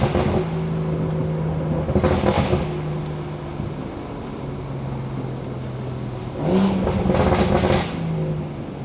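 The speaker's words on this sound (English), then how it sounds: "These downshifts gonna be crazy." A BMW B58 engine with a Stage 2 tune idles steadily, then blips and revs sharply twice during downshifts, each burst rising and falling over a low droning hum.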